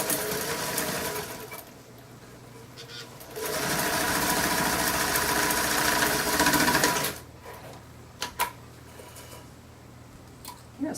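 A Janome New Home sewing machine runs in steady bursts while stitching trim onto drape fabric, its motor whirring loud and close, pausing briefly and then running again for a longer stretch before stopping with a few light clicks.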